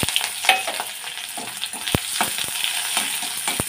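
Onion, garlic, dried red chilli and black cumin frying in hot oil, a loud close sizzle with scraping stirs and occasional sharp clinks of a spatula on the pan, no voices.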